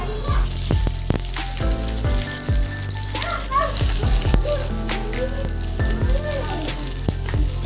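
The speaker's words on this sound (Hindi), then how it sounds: "यहाँ पर मैं बंधा गोभी को फ्राई कर रही हूँ" Cabbage (bandha gobhi) frying in oil on a home kitchen stove, a steady close sizzle broken by clattering stirs and utensil clinks, with a little background voice.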